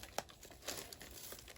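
Crinkle paper packaging filler is handled up close, giving faint, short rustles and crinkles in quick irregular bursts with no voices.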